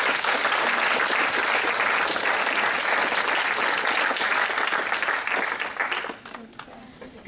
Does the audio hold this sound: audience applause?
yes